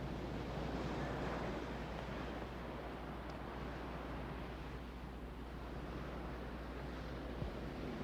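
Steady ocean surf rolls onto a cold beach, a broad continuous wash of breaking waves with wind noise on the microphone, moderately loud and unbroken, with no talking.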